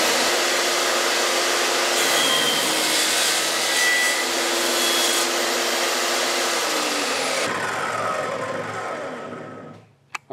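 A power saw cuts wood for a three-blade whirligig propeller hub with a loud, steady whine, then winds down and falls silent near the end.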